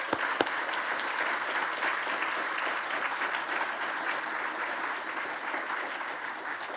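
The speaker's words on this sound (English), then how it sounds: "I want another round of applause for the nominees." An awards-ceremony audience gives the nominees a round of applause, steady dense clapping throughout, moderately distant and without speech.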